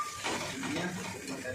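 Turmeric powder and salt being mixed into spices in a cooking pan: a steady scraping, stirring rustle with light sizzling underneath, close and continuous.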